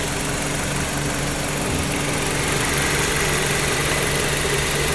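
A 2010 Dodge Journey with a 2.4 engine and automatic transmission idles, giving a close, steady mechanical hum and rattle that holds even with no voices for the whole stretch.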